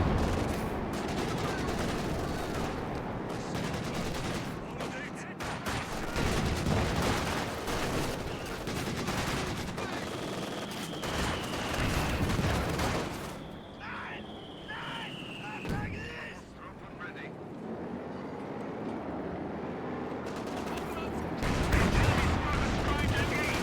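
Dense gunfire and a rifle grenade blast from a Company of Heroes 2 World War II battle, crackling volleys and bursts layered continuously with brief louder explosions, under a commentator's voice.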